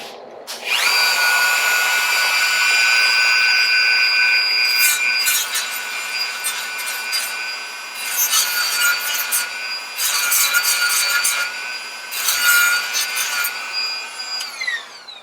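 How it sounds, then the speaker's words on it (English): A Dremel tool grinding metal inside a 1959 Harley-Davidson XLH engine crankcase, a close, high whine with rough scraping bursts as the bit bites in repeatedly, no talking. "let's skim that off with the Dremel tool and see what happens again"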